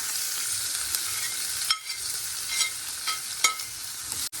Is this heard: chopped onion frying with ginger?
yes